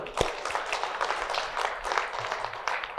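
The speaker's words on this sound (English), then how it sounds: "Let's have another round of applause for him" A round of applause from an audience at a quality-institute annual gathering, continuous moderate clapping at some distance that runs for the whole stretch.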